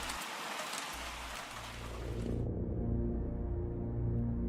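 Rain falls as a dense, steady hiss over a surface, loud and constant at first, then settling into a lower, rumbling downpour with no voices.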